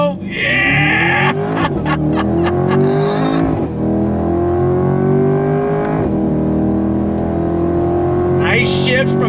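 A 2023 Chevrolet C8 Corvette 70th Anniversary Edition accelerates hard from inside the cabin, its engine rising loud and close in pitch through several quick upshifts of the Tremec gearbox, under a voice talking over it.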